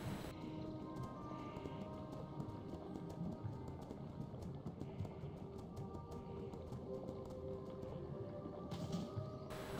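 Horse mount hooves in World of Warcraft, a steady stream of galloping clip-clop beats running continuously under a dense game soundscape, moderately loud with no pauses.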